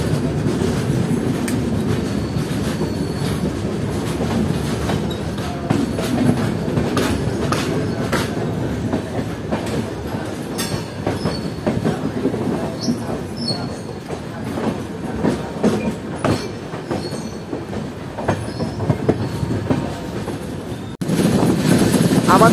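Onboard the Bolpur Shantiniketan Express running at speed, an old 2012 coach with a wheel problem gives a loud continuous rumble with clickety-clack beats and occasional squeal, under someone talking.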